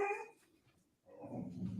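A pet dog gives a short bark or yip at the start, then a gap, followed by a muffled rumbling stretch of noise, all fairly quiet and with no talking.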